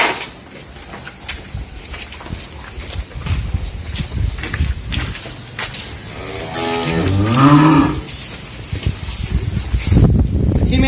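Cattle, including Simmental cows, rustle and shuffle nearby at a cattle sale, then a cow lets out a long, loud moo partway through, with more animal noise after.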